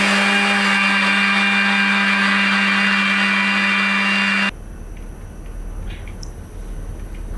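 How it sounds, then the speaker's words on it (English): A blender grinds Bengal gram into fine powder with a loud, steady motor whine for about four and a half seconds, then cuts off abruptly, leaving quiet room noise. "And now we need to make a fine powder of this Bengal gram."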